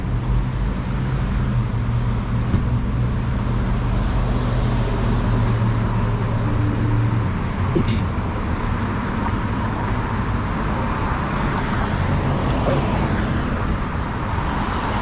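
Continuous car and truck traffic on a street in historic downtown Owego, New York, rolls past close by as a steady roar, with a heavy vehicle rumbling and passing.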